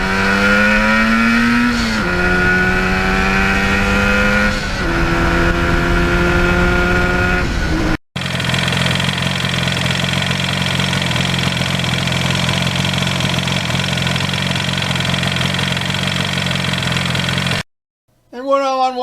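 A 1977 Yamaha RD400 motorcycle engine revs hard with rising and falling pitch as it climbs through the gears, then settles into a loud, steady high-rpm run; a brief cut and a short final rev close it out.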